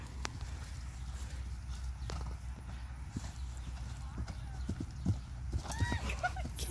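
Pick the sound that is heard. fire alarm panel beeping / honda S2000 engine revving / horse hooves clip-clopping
horse hooves clip-clopping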